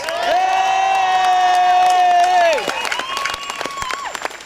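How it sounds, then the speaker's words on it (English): Protest crowd at a rally against a party conference in Manchester cheers and whoops loudly in a long held shout, then breaks into scattered clapping and calls as it dies down. "can we have a massive round of applause for Michelle, who's just spoken"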